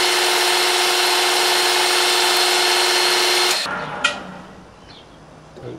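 A metal lathe takes a cut on a part for a Honda PA50 moped, giving a loud, steady machining whine with a fixed tone that runs for several seconds, then stops abruptly and leaves a few faint clicks and quiet shop noise.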